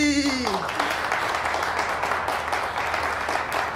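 Applause breaks out for Ramita and Pushpa in a Nepali comedy film scene, steady dense clapping that runs throughout after a brief musical tone at the start, with voices mixed in.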